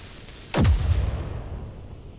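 A ship explodes in the Space Engineers video game: a single deep, booming blast hits abruptly and rumbles away into a low fading tail.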